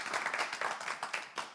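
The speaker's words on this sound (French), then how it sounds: "applaudissements" Applause from a studio audience on a French TV game show, a dense patter of hand claps with a few louder bursts, steady and unaccompanied.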